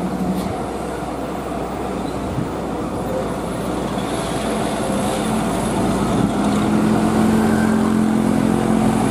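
Hino 500 truck hauling a loaded trailer, a steady heavy rumble of engine and rolling wheels that builds slightly louder toward the end, with no talking.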